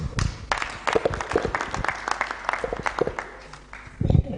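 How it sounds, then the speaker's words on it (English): Applause at an annual diaspora homecoming convention, with irregular clapping and thumps near the microphone, mixed with voices and a louder burst at the end. "Another round of applause to Madam PS"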